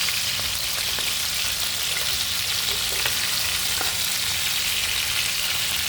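Poa fish fry lightly in hot oil in a pan, a loud, steady close-up sizzle with fine crackling that carries on unbroken throughout.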